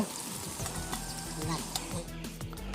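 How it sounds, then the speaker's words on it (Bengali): Katla fish pieces frying in oil, a steady close sizzle with crackles and occasional stirring scrapes throughout. "এইভাবে লাল লাল করে আমি মাছগুলো ভেজে তুলে নেব"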